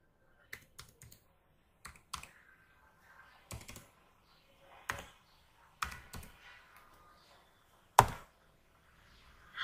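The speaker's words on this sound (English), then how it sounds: "Command prompt has been opened. Type" A computer keyboard is typed on in scattered short bursts and single sharp clicks, quiet and close, with gaps of silence between keystrokes and one louder tap near the end.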